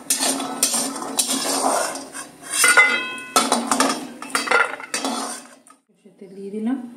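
Fried lentil dumplings (bori) are lifted out of a pan of hot mustard oil with a metal utensil, which makes repeated close clinks and scrapes against the pan. The clatter pauses briefly near the end before a few softer knocks.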